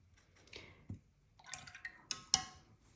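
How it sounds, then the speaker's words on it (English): Water activating gold green watercolor paint: faint, close wet dabs and small drips, a few soft squishy taps and brushy strokes in quiet surroundings. "So we're going to activate this with water."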